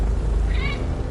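Cat giving a single short meow, clear and fairly close, over a loud steady low background hum from Returnal game audio on PS5.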